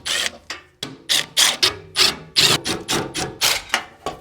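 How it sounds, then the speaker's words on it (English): Bolts on the skid plate of a 2014 Toyota Tundra are loosened with a ratchet, giving repeated bursts of clicking and rubbing metal about every half second, close up and steady, with no talking. "I'm going to take off these bolts"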